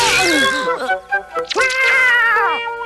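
A cartoon cat meows in an animated Doraemon episode, with two drawn-out, wavering harmonic cries separated by a brief gap, loud and close with no other sounds.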